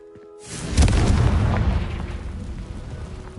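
Confringo spell explosion from the Hogwarts Legacy video game, a single loud booming blast that swells quickly and then rumbles away slowly.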